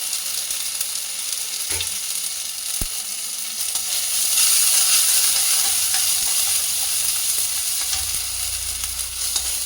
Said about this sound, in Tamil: இஞ்சி பூண்டு பேஸ்ட்டு, அது கடுகு இதெல்லாம் பொரிஞ்சு வந்ததுக்கப்புறம் இஞ்சி பூண்டு பேஸ்ட்டை சேர்க்கலாம்.